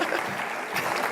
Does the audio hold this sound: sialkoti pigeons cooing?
no